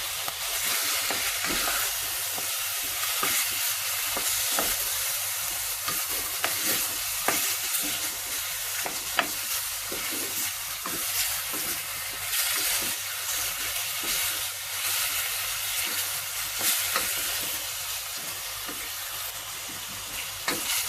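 Lamb pieces roasting in a pan for Turkish kavurma pilaf give off a steady, close sizzle and hiss of frying meat, with faint stirring scrapes, continuous for the whole stretch with no talk.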